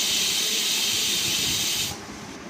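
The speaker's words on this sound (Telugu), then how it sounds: "అదిగో వచ్చేసింది విజిల్." A pressure cooker cooking dal lets out a loud, continuous steam whistle that hisses close by for about two seconds, then cuts off to a softer hiss.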